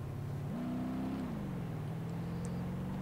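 Steady engine drone of a car driving in the BeamNG soft-body physics game, its pitch rising briefly as it accelerates and then settling back to an even hum, with no talking.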